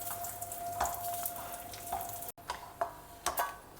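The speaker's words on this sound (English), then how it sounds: "We will roast them in the remaining oil itself." Spicy and Bydagi chillis roast in leftover hot oil in a South Indian kitchen, giving a soft, steady sizzle with faint stirring clinks and scrapes at intervals, fairly quiet throughout.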